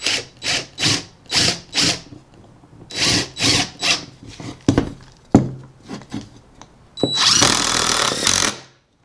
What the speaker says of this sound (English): you could just see the strength that this thing had when actually drilling into a 2x4